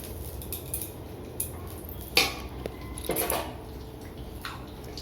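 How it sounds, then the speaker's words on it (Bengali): Semolina being cooked in a pot with ghee, heard as scattered clinks and scrapes of a utensil against cookware with a few sharper knocks over a steady low kitchen background. "আমি এখন সুজি রান্না করছি।"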